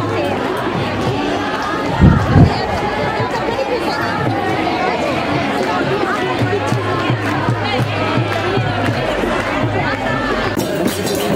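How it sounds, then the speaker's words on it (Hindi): A large crowd chatters and murmurs densely at the Raghunath chariot festival procession during Basant Panchami in Kullu, a steady outdoor hubbub with a couple of louder thumps near the start and voices overlapping throughout. "यहाँ पर तो भीड़ बहुत ज़्यादा लग चुकी है"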